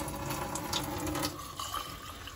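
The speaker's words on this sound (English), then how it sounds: "just gonna add a little bit of Brita filtered water" Brita filtered water poured into an aquarium, a steady trickling, splashing stream close by that slightly softens toward the end, with no voices.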